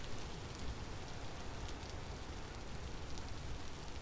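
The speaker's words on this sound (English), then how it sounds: "Also looks like the rain is here." Steady rain falls in Vintage Story, a dense, even hiss of drops on the ground that holds at constant loudness with no voices over it.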